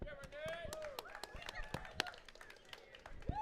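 An audience at a live baseball talk show claps for a guest in scattered, sparse bursts of a few hands, with people talking over the applause.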